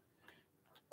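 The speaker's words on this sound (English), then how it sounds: "As you can see, I'm still coughing." A man gives a single sharp cough close to the microphone right at the end, after near silence.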